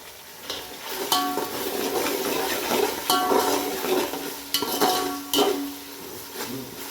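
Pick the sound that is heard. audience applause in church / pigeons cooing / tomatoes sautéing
tomatoes sautéing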